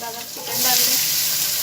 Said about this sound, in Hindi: चिकन को हम ये फ्राई कर लेंगे।